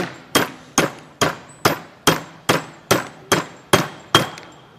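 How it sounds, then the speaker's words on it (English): Ten sharp metallic hammer strikes drive a wedge anchor into a hole at a steady, even pace, each ringing briefly before the next blow, close and loud with no talking. "I'm going to have to hammer"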